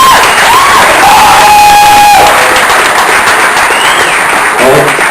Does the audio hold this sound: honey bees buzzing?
no